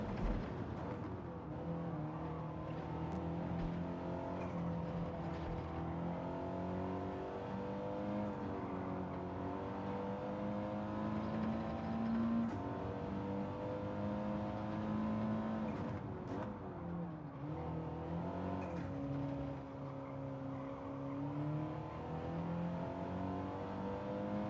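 Race car braking hard and downshifting into third in the video game Gran Turismo 7, with a steady engine drone shifting pitch as revs drop and climb. It stays fairly quiet and continuous, with no talk.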